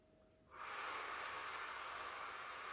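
A long, steady exhale hisses through the mouth during a standing one-leg balance exercise, starting abruptly after a quiet moment and holding evenly close to the microphone.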